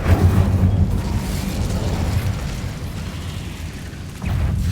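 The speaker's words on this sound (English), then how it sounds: "Incendio." A Hogwarts Legacy Incendio fire spell gives a loud, sustained roaring whoosh of flame that rumbles without break for several seconds and surges again at the end.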